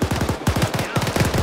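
Rapid bursts of automatic gunfire from a firefight in the military video game ARMA 3, loud and near, rattling in quick repeated volleys with brief gaps, alone without talk.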